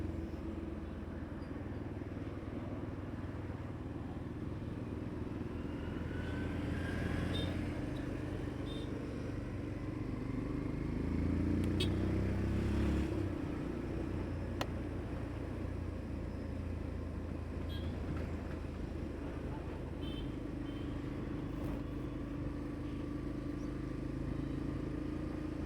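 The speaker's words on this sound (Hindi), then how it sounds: "यार गाड़ी की फायरिंग चेंज हो चुकी है।" A motorcycle engine runs on a highway with a changed firing note. It gives a continuous low rumble with road and wind noise and faint occasional clatter, steady throughout.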